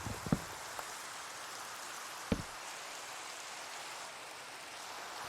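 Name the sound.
rain in Minecraft video game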